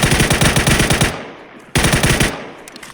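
Two loud, close bursts of rapid automatic gunfire in PUBG on PC. A long rattling volley cuts off abruptly, and after a short gap a second, shorter burst follows.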